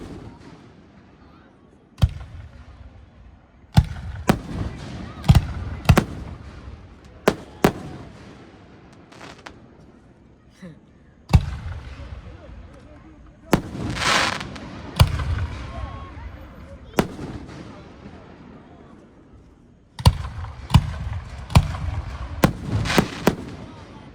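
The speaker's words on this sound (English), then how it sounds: "So much smoke with these fireworks." Labor Day fireworks in Boiling Springs, Pennsylvania, explode in a rapid series of loud, sharp booms about fifteen in all, some clustered close together, with crackling trails and rumbling echoes between the blasts.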